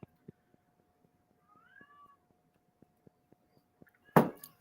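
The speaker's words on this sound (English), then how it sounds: "I have a kitten in heat right now." A kitten in heat gives one short, fairly loud meow near the end after a quiet stretch broken by faint scattered clicks and a brief soft chirp.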